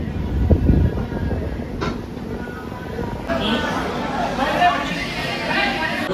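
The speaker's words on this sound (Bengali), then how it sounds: "নটা বেজে 43 আমাদের ট্রেন এখন এসে পৌঁছালো মালদা টাউন স্টেশন" A train pulls into Malda Town station, its low rumble and rolling clatter close by, with a murmur of crowd chatter and voices on the platform throughout.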